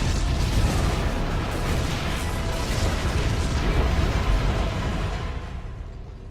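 Rumbling explosions roll through a ship in the StarCraft 2 game, a dense, loud, continuous roar of booms that fades slightly toward the end, with no talking.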